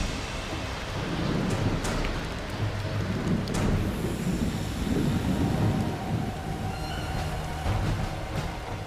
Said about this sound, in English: I start getting a little bit of rain on the windshield.